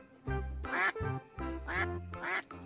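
A duck quacks in repeated loud, close calls, with several nasal quacks in an irregular rhythm and short gaps of quiet between them.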